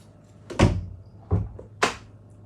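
Three separate impacts from a door being pushed shut in a room, each a sharp thud with a short rattle, the middle one softer, spaced under a second apart and heard without any voice.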